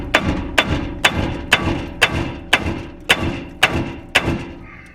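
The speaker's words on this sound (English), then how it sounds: "I went ahead and banged on this portion of the spindle to knock it loose down here" Hammer pounding on the steel spindle of a Chevy or GMC truck to knock it loose, ten sharp metallic blows in a steady rhythm, close and loud, with ringing between strikes and no talking.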